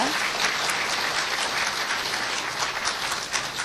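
A crowd at a 2007 award ceremony applauds steadily throughout, a dense wash of clapping that stays loud and even from start to finish.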